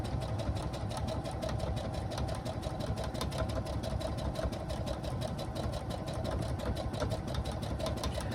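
Steady, rapid mechanical whirring of a sewing machine continuously stitching a lounge gown, with no speech.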